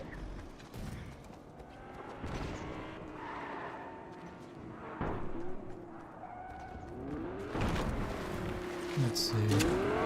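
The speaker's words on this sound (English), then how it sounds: "I hear a car." A car drives nearby in the Fortnite battle royale video game, its engine hum rising and sweeping in pitch toward the end over a busy mix of game noise.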